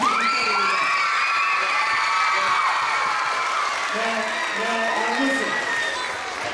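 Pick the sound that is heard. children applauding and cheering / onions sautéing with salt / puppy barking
children applauding and cheering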